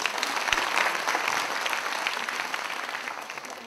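An audience, including many children, claps to welcome a speaker at a Hindi-language public lecture on childhood cancer: a continuous, fairly loud wash of clapping for nearly four seconds with no talk over it.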